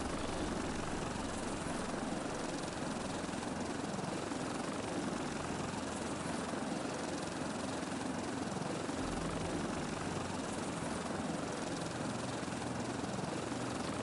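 A small plane's engine drones steadily in flight in the survival game Stranded Deep, a continuous, even roar that persists throughout without any talking.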